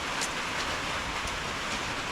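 Morning rain falls in a steady, even hiss that fills the whole stretch without a break, moderately loud and close, with no voices over it.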